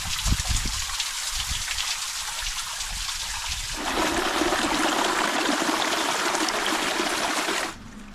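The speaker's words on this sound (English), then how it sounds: "Hot water waterfall. See, it's just coming out of the rocks here." Hot spring water pours and splashes steadily over rocks nearby in a canyon, growing to a fuller, louder rush midway before cutting off abruptly near the end.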